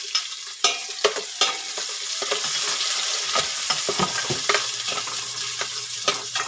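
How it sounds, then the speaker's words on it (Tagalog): Garlic and onion sautéing in a pan for a corn and chicken soup: a steady, close oil sizzle broken by repeated clinks and scrapes of a stirring utensil, with no talking. "Igigisa po muna natin. Tapos, isusunod yung sibuyas."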